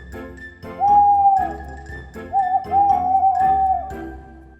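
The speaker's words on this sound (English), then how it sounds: "It's a wise owl." An owl gives a series of soft, hollow hooting calls, each a smooth sustained tone, repeating at an even pace over a quiet, low background.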